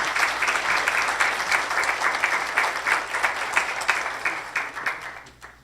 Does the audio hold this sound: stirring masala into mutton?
no